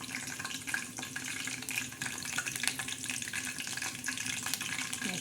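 Curry leaves crackle and sizzle in hot oil in a wok, a steady, dense frying hiss with scattered sharp pops throughout, close and fairly loud, with no talking.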